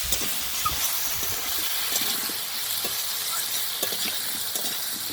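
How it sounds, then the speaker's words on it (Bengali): Slit green chillies frying in a pan, a steady loud hiss and sizzle throughout, with faint scraping stirs and small clinks underneath. "কাঁচা লঙ্কা একটু ভেজে নিলে ঝালটা ভালো বেরো"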